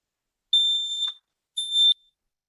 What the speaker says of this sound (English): I'm going to go ahead and push the button to test